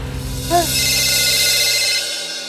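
A telephone rings in a Hindi TV drama scene, a sustained electronic ringing tone that carries through most of the moment beneath soft background music before dropping away near the end.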